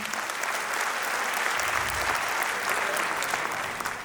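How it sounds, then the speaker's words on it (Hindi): Loud, sustained audience applause from a crowd at a financial-planning talk, steady dense clapping filling the whole stretch without a break. "एक बार जोरदार तालियां।"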